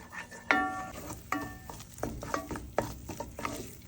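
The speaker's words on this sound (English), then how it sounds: "we're going to continue stirring this flour into the ghee" A spoon stirring flour into ghee in a pot, with several distinct scraping and clinking strokes against the metal over a soft sizzle, close and fairly quiet, no voices.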